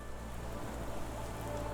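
Rain in the Sherlock Holmes The Awakened video game, a steady dense hiss of rainfall on surfaces with no voices and no breaks.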